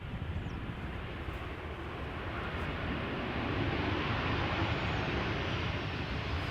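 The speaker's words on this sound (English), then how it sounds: "KLM flight 1344, Boeing 737-700 arriving from Billund" KLM Boeing 737-700 arriving at Amsterdam Schiphol from Billund, a broad steady jet roar that swells slightly in the second half, continuous and fairly loud with no talk.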